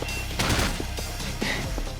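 Gunfire in a video game comes as a rapid fusillade of close shots, with several sharp cracks in quick succession over a steady background and no speech.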